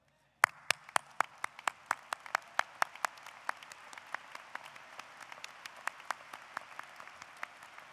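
Scattered clapping from a graduation ceremony audience, a handful of distinct sharp claps in a loose, uneven rhythm that quickly thins out, fairly faint and distant in a large hall.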